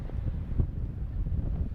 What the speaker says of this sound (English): Wind gusting again here.